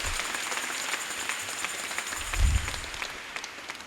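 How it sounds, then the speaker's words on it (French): A church congregation gives scattered applause during Christmas night mass at Saint Jean Baptiste parish in Lakota, steady and moderately distant, with a brief low thump partway through. "Un applaudissement pour Dieu qui se fait homme"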